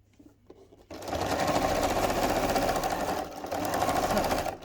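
Sewing machine running at a steady fast whir while stitching a zipped cushion cover with piping, starting after a brief moment of quiet handling, with a short dip before it resumes, close and loud.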